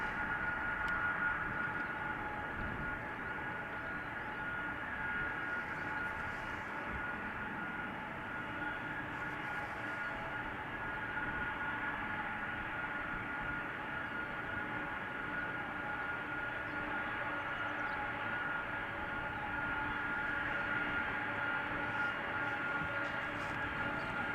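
A steady, broad jet engine roar at Amsterdam Schiphol Airport, with an Embraer 175 and a Boeing 747 near runway 36L, droning continuously at moderate distance for the whole stretch with no voices.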